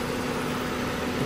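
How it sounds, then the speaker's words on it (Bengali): A 2013 Toyota Axio Fielder G with a new battery idles, its engine giving a steady low, even hum, fairly quiet and with no voices over it. "ইঞ্জিনের সাউন্ড আপনারা শুনতে পাচ্ছেন"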